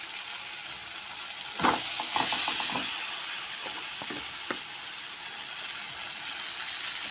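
Water poured into an onion vegetable curry boils and hisses loudly in the pan, a steady close sizzle with a cluster of stirring scrapes and clatters partway through; no speech.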